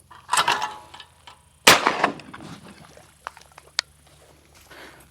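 A single sharp, loud shotgun blast at outdoor skeet shooting cracks out and then trails off quickly. Brief voices come before it and faint clicks and knocks follow.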